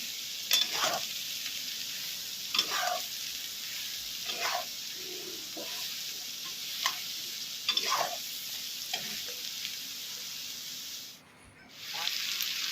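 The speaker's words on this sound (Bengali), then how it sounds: "সোয়াবিনগুলোকে ভেজে নেওয়া হবে এখন" Soaked soybean chunks fry in oil with a continuous bright sizzle, broken by regular scraping stirs of a spatula every second or two, and a brief dip in the hiss near the end.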